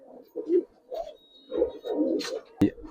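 Silver pigeons coo close by in soft, low, rolling phrases separated by short pauses, with a sharp knock near the end.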